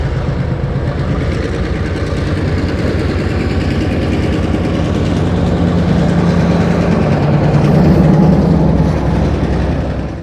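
Seventy-year-old short line locomotive switching boxcars beside a former DuPont factory, its heavy diesel engine rumbling low and loud, steady and swelling slightly as it pulls ahead, with no talk.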